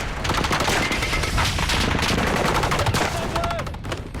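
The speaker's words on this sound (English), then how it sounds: "We're getting shot at from both sides." Dense, continuous rifle and machine-gun fire from both sides during an ambush on Marines in Iraq in 2004, with rapid overlapping cracks and bursts that stay loud and close throughout.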